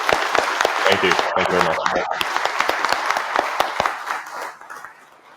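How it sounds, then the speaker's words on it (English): Audience applause: steady clapping with sharp individual claps close by, while someone speaks briefly over it, then the clapping fades out. "let's give him a round of applause."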